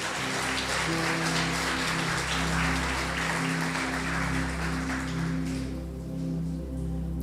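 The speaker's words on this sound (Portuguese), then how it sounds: "Você pode aplaudir em nome de Jesus ao Senhor." Congregation applause in a church during a revival sermon, a steady broadband wash of clapping over a sustained low organ or keyboard drone, fading out near the end.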